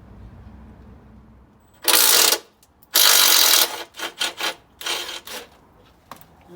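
A ratchet driver works a bolt on a Ford Focus steering rack, with two long loud bursts of rapid clicking followed by several shorter ratcheting strokes, close and distinct against a quiet garage.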